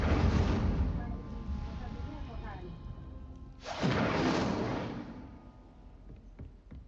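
An Incendio fire spell cast in Hogwarts Legacy: a loud whooshing burst with a deep rumbling boom, followed by a second surging blast that fades into game ambience, and someone speaking briefly.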